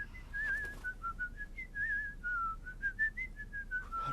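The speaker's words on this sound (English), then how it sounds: "was the bristly whistler. Whistling so sweetly." A cartoon bird's clear, tuneful whistle warbles up and down in a lively melody, steady and fairly soft over a quiet background.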